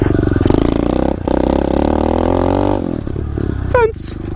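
An SSR 125 pit bike engine revs hard in second gear during backyard riding, a loud buzzing drone that climbs in pitch, dips briefly, then surges again before a quick scraping clatter near the end.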